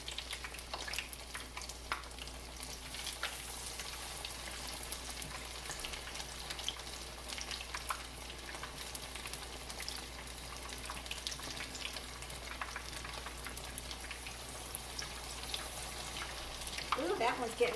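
Hoe cakes of hot water cornbread fry in hot grease with a steady, dense crackling sizzle, close and continuous, with faint clinks near the end.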